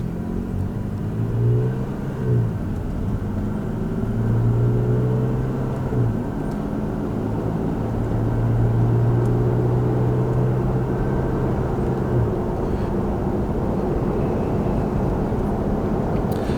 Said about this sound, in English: I will show you guys my acceleration, just a normal acceleration